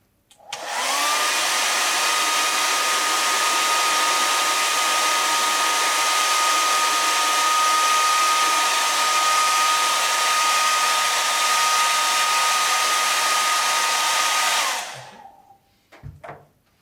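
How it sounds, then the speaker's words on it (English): A hair dryer blows steadily at close range on an aquatint etching plate for about fifteen seconds with a constant whine, then switches off. "Now I'm just going to quickly dry that with a hairdryer as well."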